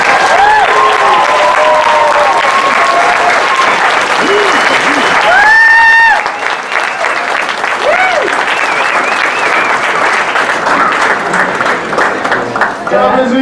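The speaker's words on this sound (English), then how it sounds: "One more round of applause for your great kids." Loud, sustained applause fills a concert hall for middle school orchestra students, with cheers and whoops rising over the dense clapping midway through before the clapping continues steadily.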